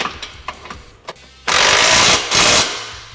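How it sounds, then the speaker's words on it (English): M12 bolts on a SuperATV front bumper being fully tightened on a Can-Am Commander, a few light clicks and taps followed by a loud, close whirring burst from a power tool that briefly dips and then resumes. "Now we're going to fully tighten our M12s"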